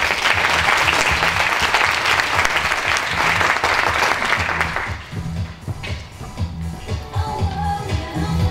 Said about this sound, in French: Je vous demande d'applaudir Leila et de l'accueillir.